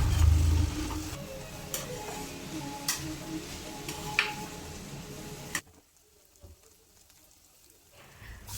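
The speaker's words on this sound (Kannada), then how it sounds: "ಚಿಕ್ಕಡಿಕಾಯಿನ ಚೆನ್ನಾಗಿ ವಾಶ್ ಮಾಡಿಕೊಂಡು ಇದರೊಳಗಡೆ ಹಾಕಿ ಚೆನ್ನಾಗಿ ಫ್ರೈ ಮಾಡ್ಕೊಳ್ಬೇಕು" Broad beans frying in oil with onion and spices, a steady sizzle with occasional stirring clinks for about five seconds, then the sound drops away to near quiet.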